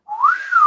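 A single person whistles a short rising-then-falling phrase, clear and close, with no other sound around it.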